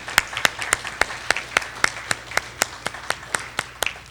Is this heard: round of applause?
yes